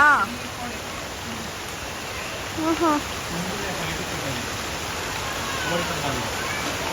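Rain falls steadily outdoors, a broad continuous hiss that stays even throughout, while someone talks intermittently over it.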